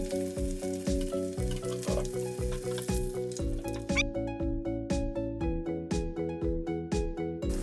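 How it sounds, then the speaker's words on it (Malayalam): Chicken pieces for a Kerala-style chicken fry crackle and sizzle steadily in hot oil, with a regular rhythmic stirring or scraping pulse throughout and no talking. "ഇതുപോലെ തന്നെ ബാക്കിയുള്ള ചിക്കൻ പീസസൊക്കെ വറുത്തെടുക്കണം കേട്ടോ."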